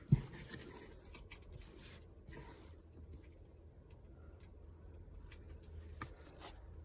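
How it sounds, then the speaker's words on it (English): Soft papery swishes and light scrapes as tarot cards are spread across a table, with a faint tap at the start, quiet and close. "And let's just spread the cards out."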